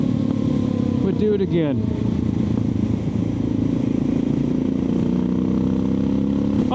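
Suzuki DR650 motorcycle engine running steadily while riding, a continuous close drone with harmonic layers that rises in pitch near the end, with someone talking over it throughout.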